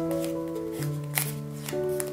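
Paper crinkles and snaps in short, close bursts while being folded into an origami fiery dragon, over a steady musical tone in the background.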